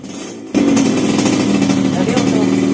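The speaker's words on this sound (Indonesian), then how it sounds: "pada saat gas kecil seperti ini agak merebak" Carbureted motorcycle engine set up with a rich (wet) carburetor tuning, idling at low throttle with a steady, uneven burble that starts abruptly and continues loudly near the microphone.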